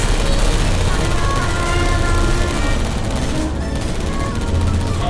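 Turrets fire in Portal Stories: Mel, a loud, dense rattle of rapid gunfire that runs almost without pause, close and harsh over a low rumble.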